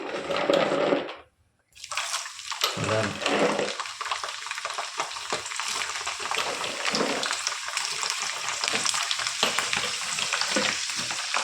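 Garlic fries in hot oil in a pan for tomato pickle, giving a loud, close, crackling sizzle with a short hush near the start before the frying noise returns and carries on steadily.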